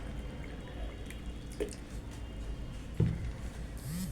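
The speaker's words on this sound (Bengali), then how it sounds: "এর মধ্যে আমি এখন জল একটু ঢেলে দিচ্ছি" Water is poured into a sattu sharbat, heard as faint, quiet trickling with a couple of sharper splashy drips against a soft room background.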